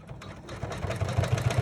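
A sewing machine stitching a seam on a vintage Midge embroidered bag, its motor whirring in a steady, quickening run of close mechanical pulses with no voices.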